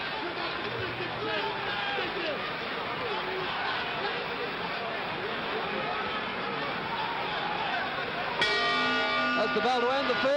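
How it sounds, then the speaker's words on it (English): A boxing ring bell rings at about 8.5 seconds to end the fifth round of the Clay versus Liston fight in Miami Beach, cutting through a loud, steady arena crowd roar and commentary that run throughout. "That's the bell to end the fifth."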